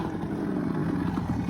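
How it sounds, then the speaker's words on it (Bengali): A motorcycle engine drones steadily and loudly while the bike pulls a wheelie on a school playing field, a continuous close rumble without breaks. "হুইলি মারতেছে"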